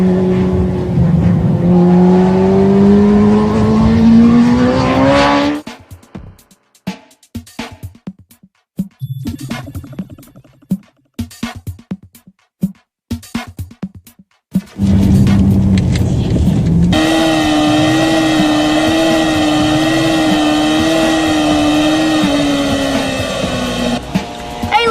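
Motorcycle engine under a rider's uneven throttle, loud revs rising and falling, cutting out into a choppy, sputtering stretch of on-off blips before surging back to a steady, strong drone while leaning through consecutive turns.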